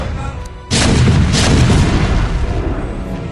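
Siege tanks firing in a StarCraft match: a sudden heavy boom that swells into a sustained rumbling barrage of explosions, loud and dense, filling the remaining seconds.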